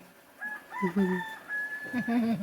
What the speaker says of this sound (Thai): ด้วยเสียงไก่ขันนอนแล้ว